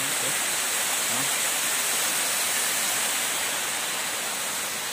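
River water at a clothes-washing spot on the Kemiri river in Nglipar, Gunungkidul, rushes in a steady, dense hiss, unbroken and fairly close throughout.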